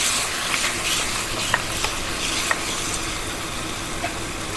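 Tomatoes stir and sizzle in a hot pan for a vegetable biriyani, giving a steady frying hiss broken by a few light scrapes and taps from the spoon.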